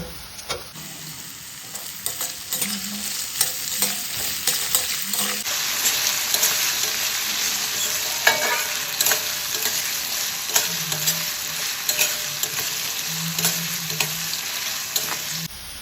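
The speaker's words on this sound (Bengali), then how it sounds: "এটা একটু ভেজে নিচ্ছি এবার এর মধ্যে দিয়ে দিচ্ছি কুচিয়ে রাখা আলু" Chopped potatoes and sago fry in a pan, a close, busy sizzle broken by scraping stirs and clinks of a spatula that come and go throughout, with no voices.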